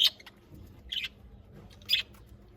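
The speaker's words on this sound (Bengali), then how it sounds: "এগুলো হচ্ছে আমার বাজিগার।" Pet budgerigars, kept alongside diamond doves, give three short, bright chirps spaced about a second apart over a low, steady indoor background hum. No one speaks.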